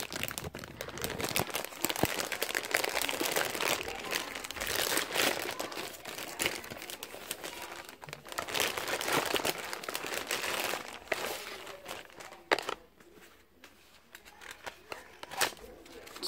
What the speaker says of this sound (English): Just gonna open the bag.